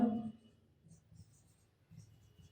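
Chalk or marker writing on a board during a biology lesson gives faint, soft scratching strokes in a few short bursts, preceded by a brief bump.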